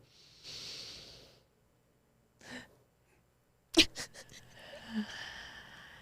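Slow, deep relaxation breaths for insomnia, filling the abdomen rather than the chest: a few close, airy inhales and exhales with quiet gaps between them.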